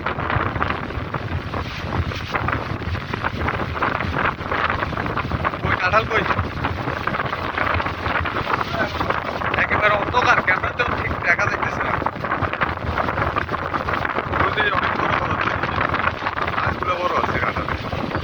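Strong wind gusts outdoors at the start of rain, a steady broadband rush roaring into the microphone throughout, loud and continuous with no speech over it.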